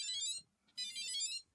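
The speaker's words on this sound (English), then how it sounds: "you got the backup beeps" Two bursts of high-pitched electronic beeping from a LEGO RCX brick as backup beeps, the first about 0.4 seconds long and the second longer, separated by a short gap with one faint blip, clear and close.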